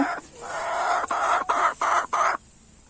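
Hens at an egg-laying spot give loud, close clucking calls: a long drawn squawk followed by several quick, broken clucks, with no one talking.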